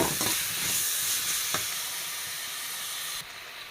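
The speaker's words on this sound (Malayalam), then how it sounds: "ഇതൊന്ന് എണ്ണയിൽ വഴറ്റിയെടുക്കാം" Grated coconut and chopped tomato sauté in oil, a close hissing sizzle that is loudest at first and eases off, with one brief stir scrape and an abrupt drop near the end.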